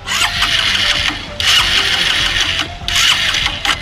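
A smart-helmet bike's motorcycle engine runs at close range. The sound is a loud mechanical whirring with three surges of rising high-pitched rattle, with no talk.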